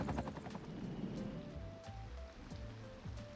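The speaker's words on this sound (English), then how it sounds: "There's a low-flying helicopter," A low-flying police helicopter in Cities: Skylines 2 thrums with a rapid rotor chop over a background wash of rain-like ambient city noise, fairly faint and continuous.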